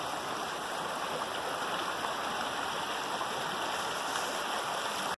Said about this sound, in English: listen to the beautiful water